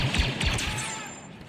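A quick burst of sharp gunfire in Star Wars Battlefront 2 multiplayer cracks out a few times in fast succession, then fades into a faint echoing tail.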